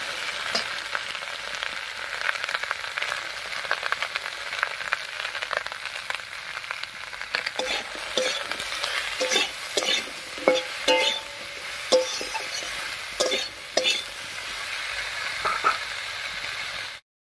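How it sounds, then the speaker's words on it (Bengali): Eggplant and onion stalks sizzle in oil, seasoned with salt and turmeric, a continuous close frying hiss broken by repeated sharp stirring knocks and scrapes before the sound cuts off abruptly. "পেঁয়াজ কলি আর বেগুনটা ভাজা হতে থাক"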